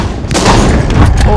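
Gunfire from the zombie shooter video game Walking Zombie, a short burst of loud, sharp shot blasts over a steady game background in a brief moment.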